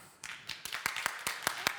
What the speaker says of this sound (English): can you clap now?